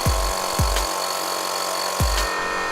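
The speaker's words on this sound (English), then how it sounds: "If you want to turn on the compressor, you must pull up the red button." An ABAC Pole Position L20 air compressor starts up with a loud, steady motor drone carrying a faint whine, broken by a few deep thumps near the start and again after about two seconds.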